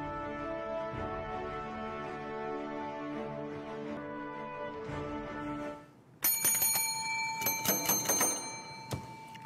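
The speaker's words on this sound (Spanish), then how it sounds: "Ahora tenemos tres timbres" Bright metallic bell rings start sharply about six seconds in and repeat several times in quick strokes, loud and close, after a steady tonal hum fills the earlier part.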